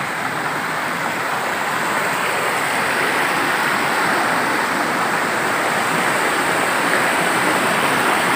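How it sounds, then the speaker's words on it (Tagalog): A large creek rushes over big rocks, a loud, dense and steady broadband roar of flowing water close by, with no voices. "Napakalaking sapa mga bro."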